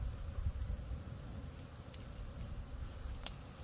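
Bees hum in a dense, faint, continuous buzz from inside a beehive in a baobab tree, heard at a distance with no talking.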